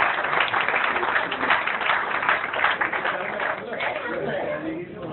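Audience applause fills a centenary celebration event in Bijnor, a dense, continuous wash of clapping that stays loud and steady throughout, with voices mixed into the crowd.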